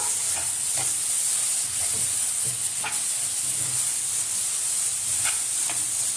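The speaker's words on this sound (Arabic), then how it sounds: "هقلبها كده تقليبه كويسه" Seasoned chicken pieces sizzle in a pan while a spoon stirs them, giving a loud steady hiss broken by several short scraping knocks, with no one speaking.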